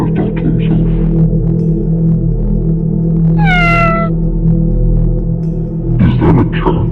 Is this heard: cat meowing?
yes